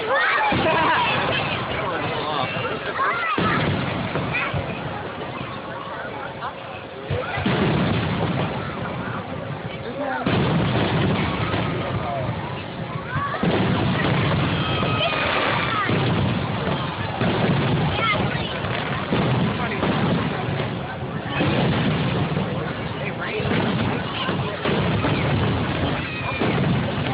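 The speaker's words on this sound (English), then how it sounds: "NewBern fireworks are 10 times better than this." Fireworks display in Raleigh, North Carolina, booming continuously and loudly through the whole stretch, with distant crowd murmur and wind noise on the microphone.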